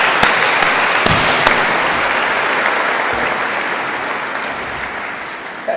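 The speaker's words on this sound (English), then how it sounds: "let's give them a round of applause" Loud, close applause from an audience at a games opening ceremony, a dense continuous clatter of hands with a few sharp individual claps, gradually easing slightly toward the end.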